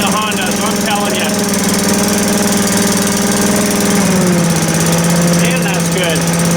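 A Honda engine on a tractor leaf vacuum runs steadily at idle, a loud close drone with a buzzing hum that drops slightly in pitch partway through, while someone talks over it.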